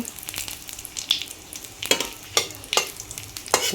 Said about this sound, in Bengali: আমি সামান্য দিয়ে দিচ্ছি গোটা জিরা, তারপর দিয়ে দিচ্ছি একটু কালো জিরা, তারপর দিয়ে দিচ্ছি একটা তেজপাতা।